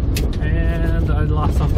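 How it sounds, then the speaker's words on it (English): A turbocharged Ford EF sedan pulls hard under acceleration, engine droning loud and close with rising whine and rushing turbo noise, buffeted by wind over the microphone. "I'm gonna do a pull here. You can hear turbo noises."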